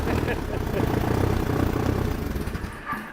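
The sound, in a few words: Allis tractor engine idling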